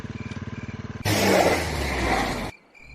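A cartoon motorcycle putters with a steady, pulsing engine rhythm, then gives a sudden loud roar that holds for over a second before cutting off abruptly, leaving near silence.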